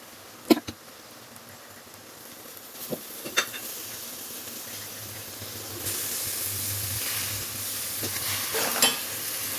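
Chicken pieces are stirred into frying masala for kozhi kulambu, a Tamil chicken curry. A steady sizzle runs throughout, with sharp spoon scrapes and clinks near the start, and the frying grows louder toward the end.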